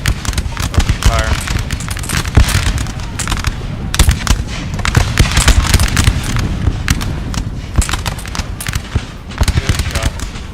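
Dense musket volleys crackle and pop in rapid overlapping bursts during a 4v4 Napoleon Total War battle of France against Russia, Austria, England and Prussia, loud and continuous.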